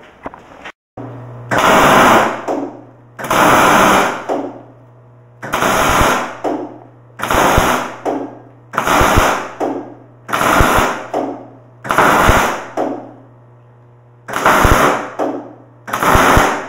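Steel is welded in about ten short, loud crackling bursts at a fairly regular rhythm, with a steady electrical hum running underneath between them.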